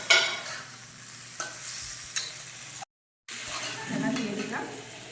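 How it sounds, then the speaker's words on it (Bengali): Fried potatoes go into oily, well-cooked spice masala in a pan and are stirred, giving a close sizzle with scraping spoon strokes against the pan, broken by a brief silent gap. "এবার ভেজে রাখা আলুটা দিয়ে দিলাম।"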